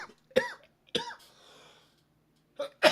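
A person coughs sharply several times, a pair of close dry coughs followed after a pause by two more, with near silence in between.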